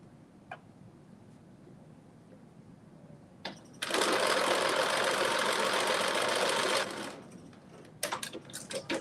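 A home sewing machine stitching a seam on dressy joggers, a quiet room giving way to about three seconds of fast, even whirring stitches, followed by small clicks and handling sounds.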